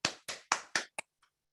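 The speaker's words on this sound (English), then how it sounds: "Y'all clap it up for the poet." Six distinct, isolated claps in quick succession, the first four evenly spaced and resonant with short decays, then two quicker, fainter ones trailing off into silence, sounding like a single person clapping up close at a poetry slam.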